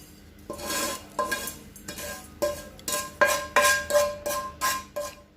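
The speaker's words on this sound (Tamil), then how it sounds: "இப்போ வறுத்த ரவை போட்டாச்சு" Roasted rava (semolina) poured and scraped into a bowl for instant rava idli batter, a run of about a dozen close, rhythmic scraping and tapping strokes of a spoon against the bowl, with no talking.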